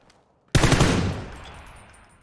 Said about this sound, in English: I'm pretty sure I headshot that guy, Matt.